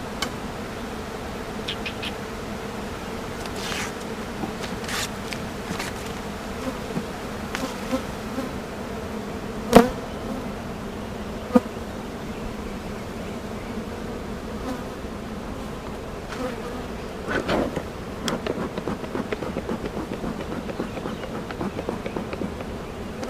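Honeybees at a hive in a farm apiary, a steady close buzz of many bees throughout, with a few louder passes and light handling knocks.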